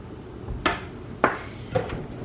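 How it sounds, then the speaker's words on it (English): A spoon stirring a honey and cereal mixture in a bowl for cereal bites makes three separate scraping clinks against the bowl, spaced evenly and heard up close with no voices. "and give it a stir."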